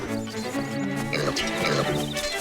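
Pig grunts and snorts from the game The Legend of Zelda: Link's Awakening, several short squealing oinks over in-game background music, with no talk.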